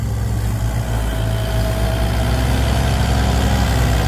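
The heavy diesel engine of a Kubota M108S tractor idles steadily close by, a deep continuous rumble with a low throbbing pulse, loud and unbroken, with no voices.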